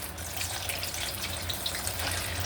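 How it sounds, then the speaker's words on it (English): Leftover dumplings fry in hot oil in a pot, giving a close, steady sizzle with fine crackling and spitting that never lets up. "now we're going to put the dumplings in the oil"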